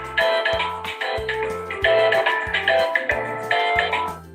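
A phone rings in a repeated electronic pattern, bursts of melodic tones roughly every second separated by brief pauses, moderately loud with no talking.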